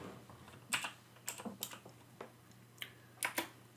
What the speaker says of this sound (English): All I have to do is type in the letters EKG and hit enter